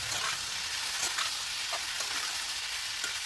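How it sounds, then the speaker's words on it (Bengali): Drumstick curry sizzles in a pan while turmeric powder is stirred in, giving a constant frying hiss with a few soft scrapes from the spoon, close and without talk. "হলুদ গুঁড়োটা দিয়ে ভালো করে নাড়াচাড়া করে মিশিয়ে নিয়েছি"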